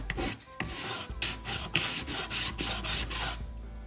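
Wooden toolbox parts are hand-sanded before assembly, producing about nine brisk rhythmic rasping strokes up close, each stroke a short scratchy burst.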